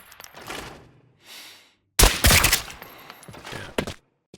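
Lever-action rifle fire in the shooter game Arena Breakout Infinite, a sharp loud report followed by a rattling tail and a few smaller clatters, with quieter handling noises before it.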